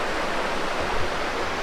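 Laurel Falls, a waterfall along the Appalachian Trail, roars in a steady, dense broadband rush that fills the whole short stretch evenly, close and loud with no voices over it.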